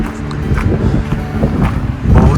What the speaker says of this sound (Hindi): बहुत ही तेज़ हवा चल रही है, आपको हवा की आवाज़ भी आ रही होगी वीडियो में